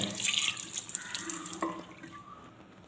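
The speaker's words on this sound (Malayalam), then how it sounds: "കുറച്ച് വെള്ളം ഇതുപോലെ ഒന്ന് ഒഴിച്ചു കൊടുത്താൽ മതി" Water poured from a container into a wash basin sink after cleaning, splashing and gurgling loudly at first, then thinning to lighter trickles and a few drips as the pour tapers off.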